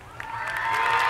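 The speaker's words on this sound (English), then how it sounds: "everyone, let's clap" Short burst of applause from a crowd, rising steadily in loudness over about a second with scattered cheering, no voices over it.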